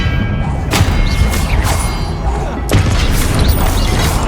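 Spell impacts in the Hogwarts Legacy video game, two loud booming thuds about two seconds apart, each with a crashing burst over a dense, noisy game soundscape.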